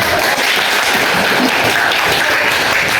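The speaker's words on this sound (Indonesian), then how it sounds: "Tepuk tangan" Students in a classroom teaching session give a classmate a round of applause, a loud, dense and even wash of many hands clapping throughout, with no talk heard.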